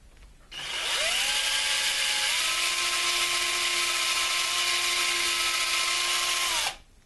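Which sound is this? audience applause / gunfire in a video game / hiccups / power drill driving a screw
power drill driving a screw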